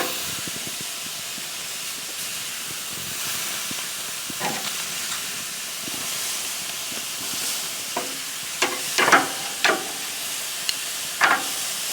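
Pork tenderloin with a sausage rub sears over direct heat on an open-lid infrared grill on a cold night, giving a steady, close sizzling hiss with occasional sharper crackles and pops as the meat is shifted around.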